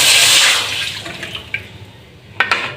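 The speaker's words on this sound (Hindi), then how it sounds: "अगर आपके पास दूध अवेलेबल हो तो आपने ये दूध डाल लेना।" Milk pours into a karahi for sooji or besan barfi in a loud, close, splashing stream that tapers off, followed by a few faint drips and clinks.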